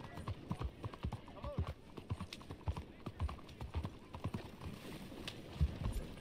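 Horse hooves in Red Dead Redemption 2 clip-clop in a steady rhythmic pattern, close and clear, while someone talks over them.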